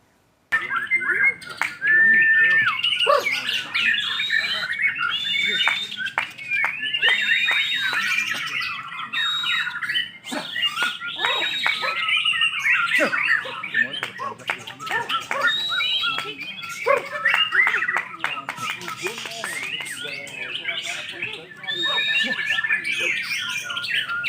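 A white-rumped shama sings loud and close, a long run of varied whistles, chirps and harsh squawks with short pauses.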